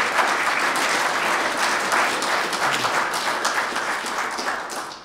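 A conference audience at a security event's closing remarks gives steady, dense applause that holds at an even level for several seconds and fades slightly at the end, with no voices over it.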